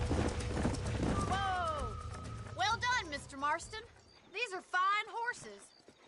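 Horse hooves clip-clop in Red Dead Redemption, a soft rhythmic trot running underneath loud game dialogue from several characters.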